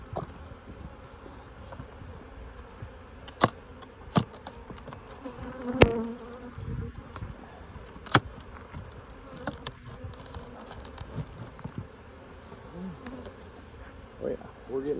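Honeybees buzzing steadily around an open, crowded hive during a beekeeping inspection in Alaska, a continuous close hum with scattered knocks and clicks of hive equipment.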